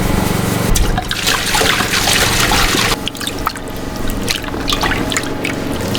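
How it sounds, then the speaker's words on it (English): Water pours into salt to make a brine for salmon roe in an off-grid Alaska kitchen, a loud, close, continuous splashing pour with a brief break midway before it resumes. "add my salt and my water"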